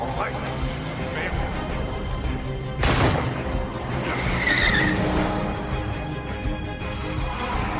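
A car in a French drama film speeds off with a sharp tire skid and screech, loud and close, set against an ongoing engine rumble and background noise.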